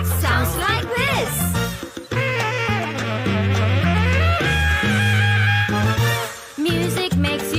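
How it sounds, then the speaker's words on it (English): Saxophone plays a bright, melodic tune over a full musical backing in a children's TV show, the reedy line carrying steadily for several seconds. "The sax sounds like this."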